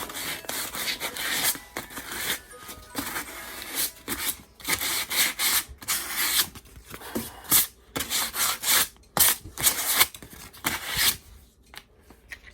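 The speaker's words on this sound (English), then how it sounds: "Sandpaper, clean that hole up." Sandpaper rubbing inside a drilled hole in a frame part, quick repeated scratchy strokes in uneven bursts, close and fairly loud, with short gaps between passes.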